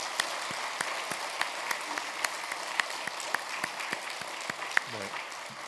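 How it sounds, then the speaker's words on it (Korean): Congregation in a Korean church clapping together, a sparse, steady rhythm of individual claps over a soft background, with a voice speaking near the end. "감사와 영광과 찬양의 박수를 올려드리겠습니다"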